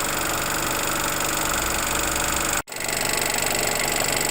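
2004 Ford Ranger TDi diesel engine idling with a rapid, steady knocking clatter, close and loud, briefly cut by a short dropout before the ticking idle resumes.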